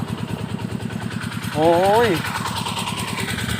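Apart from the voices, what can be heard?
water pump engine running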